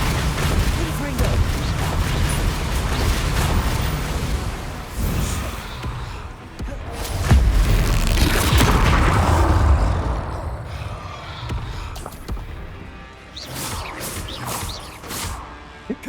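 Confringo blasting-spell explosions in Hogwarts Legacy, heavy booms and crackling bursts clustered in the middle, surrounded by spell-casting effects and a player's voice.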